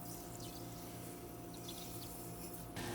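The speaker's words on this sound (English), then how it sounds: "Pour in 2 cups water and 1 cup sugar." Two cups of water poured into a pot with a cup of sugar for a vegan syrup: a steady, close pouring splash that runs without a break and swells near the end, with no voices.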